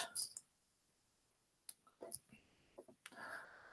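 Computer mouse clicks on a laptop while navigating to Google Drive, a few sharp isolated clicks spread irregularly across quiet room tone, near and fairly faint.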